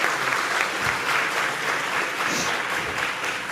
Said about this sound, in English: Give them a big round of applause, all graduates here.